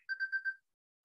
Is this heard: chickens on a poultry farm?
no